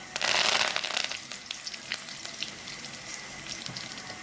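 Curry leaves drop into hot oil with cumin and mustard seeds for a Marathi kadhi tempering. A loud, hissing sizzle bursts up at once, then settles into a steady, crackling fry.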